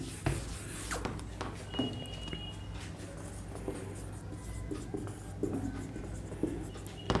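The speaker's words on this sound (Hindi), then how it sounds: "हम इस सेंटेंस को लिखते हैं क्या, एन ओल्ड मैन" Pen or pencil writing a sentence by hand, with a continuous scratchy stroking and a few taps, close and moderately quiet, with no talk.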